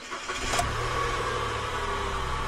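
A 2016 Nissan Note starts by push button: a brief cranking burst, then the engine catches and settles into a steady, moderately loud idle, heard up close with no talking.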